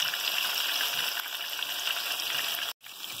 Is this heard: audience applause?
no